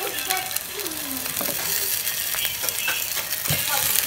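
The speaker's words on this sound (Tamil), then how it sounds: "இப்போ எல்லாம் நல்லா வதங்கி வந்துருச்சு." Vegetables sautéing in a pan for Tamil-style karuvadu kulambu give a steady bright sizzle, with scraping stirs and clinks of a spoon against the pan, while a voice speaks faintly at times.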